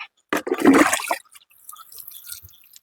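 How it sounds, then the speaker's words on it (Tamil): Water mixed with pesticide is poured onto freshly planted lentil seeds in a farm plot, giving a brief close splash and gush, then fading trickles and soft dripping into the soil. "அந்த தண்ணியை ஊற்றி விடுறேன்"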